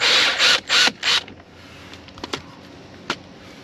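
Ratchet spinning out self-tapping screws from the front lip of a Ford Focus ST, a few quick loud bursts of clicking near the start followed by faint scattered clicks and taps.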